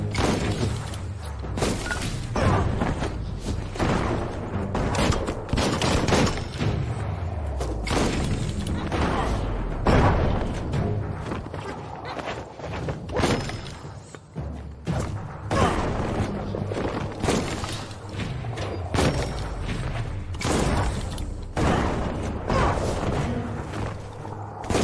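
Bombs lobbed by a bomb lobber enemy in Biomutant burst repeatedly over about twenty-five seconds, a dense run of loud booms, thuds and shattering crashes mixed with game combat, while a voice talks intermittently.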